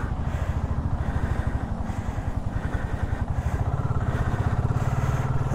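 A BSA Goldstar 650 single-cylinder motorcycle pulls away hard in first gear, its engine thumping in a steady, rapid, loud pulse heard close from the rider's position.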